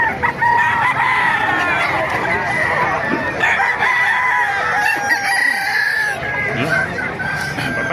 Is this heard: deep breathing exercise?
no